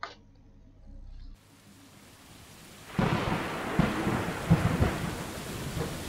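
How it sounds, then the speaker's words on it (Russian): Rain and thunder in the video game Stray: quiet ambience at first, then a heavy rumble of thunder breaks in about halfway and rolls on over steady rain, with a few louder cracks. "Дождик."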